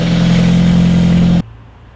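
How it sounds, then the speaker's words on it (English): A vehicle's engine runs while its ignition timing is being adjusted, giving a loud, steady, close drone that cuts off abruptly, leaving a faint low hum. "Adjusting the timing of my vehicle."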